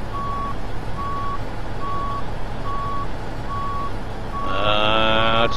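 A tractor trailer truck's reversing alarm beeps steadily, six evenly spaced tones, before a louder engine rumble and rising mechanical whine set in at the end.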